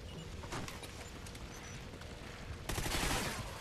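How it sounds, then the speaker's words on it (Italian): Gunfire in Call of Duty: Ghosts rattles in dense, fast volleys at a moderate level, growing louder toward the end. "E questo mi spara due fottuti colpi"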